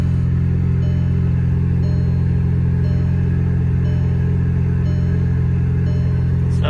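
A Volkswagen mk5 Golf engine running right after starting, a loud steady low rumble with an even idle throb held close for several seconds, ending in a brief sharp click.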